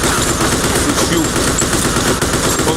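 Sustained rapid gunfire from a video game, Mafia 2, a dense, loud, continuous burst of shots with no gaps, like automatic weapons fire, throughout.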